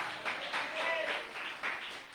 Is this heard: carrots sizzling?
no